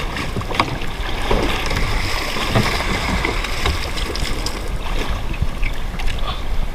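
Constant wash of water and wind around a small fishing boat on the sea, with splashing and knocking sounds scattered throughout at close range.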